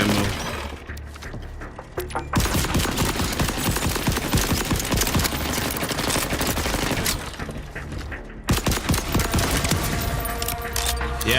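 Dense, close automatic gunfire in the video game Borderlands: rapid rattling bursts with shattering, clattering impacts, pausing briefly twice before resuming loud and sustained.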